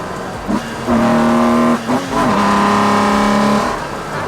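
Loud, droning engine noise fills the rattly, stripped interior of a BMW E46 M3, the pitch holding steady then briefly dropping and rising again as the car drives on.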